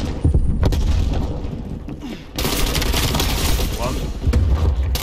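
Grenade explosions in Call of Duty Black Ops Cold War, a loud broadband blast erupting midway amid ongoing gunfire and game noise, with further booms following.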